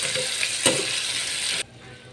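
Sweet Filipino adobo sizzles and fries steadily in a pan, a close, continuous crackling hiss with one brief clatter of stirring before it abruptly drops away near the end.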